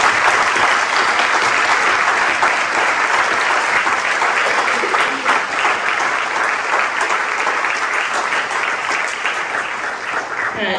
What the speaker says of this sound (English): please give our candidates a round of applause